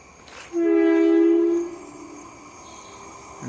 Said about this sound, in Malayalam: ട്രെയിനിൻ്റെ സൗണ്ടാണ് കേൾക്കുന്നത്.